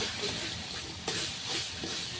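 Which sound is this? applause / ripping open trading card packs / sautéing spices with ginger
sautéing spices with ginger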